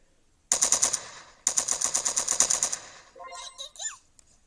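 Two rapid bursts of automatic gunfire from an auto-firing weapon in the video game Milk Choco, crisp and rattling, followed by short chirpy game effects.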